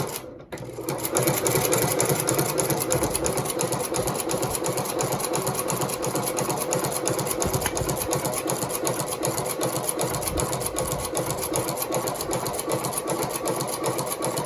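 A Consew 29 cylinder arm lock-stitch sewing machine runs steadily without pause, its rapid mechanical stitching close and loud throughout, used for shoe repair and mending handbags.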